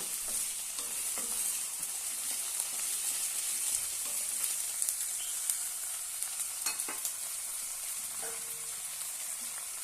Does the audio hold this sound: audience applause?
no